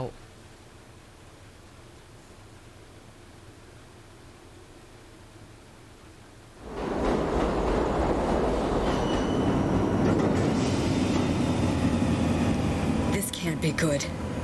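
In the video game World War Z, a quiet low rumble gives way to a loud, steady train running along the rails, with rattling wheels and occasional high metallic squeals.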